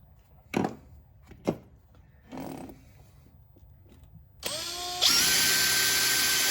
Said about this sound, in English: I need to drill a hole here because this is where the wire will start from